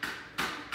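A chisel is banged with a hammer to dig gems out of rock, giving two sharp metallic strikes spaced about a third of a second apart, each ringing briefly, heard close and moderately loud.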